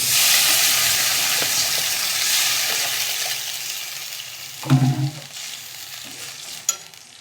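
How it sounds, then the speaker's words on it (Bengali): Onions fried until red hiss and sizzle loudly in a pan before water is poured over them, setting off a sudden splash and bubbling burst, after which the sizzle settles lower. "পেঁয়াজটা ভালো করে লাল হয়ে গেছে, এবার আমি একটু জল দিয়ে দেব পেঁয়াজের উপরে।"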